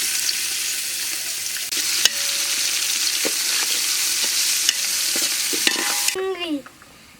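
Shrimp seasoned with turmeric, chili and salt fry in hot oil, with a steady loud sizzle and scattered stirring clicks that stop abruptly near the end.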